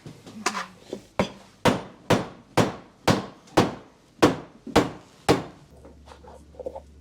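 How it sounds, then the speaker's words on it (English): Sharp, steady hammer blows drive down the heel of a chukka boot, about ten loud knocks at an even pace with a short ring after each, then softer taps near the end. "So the next process is hammering down the heel."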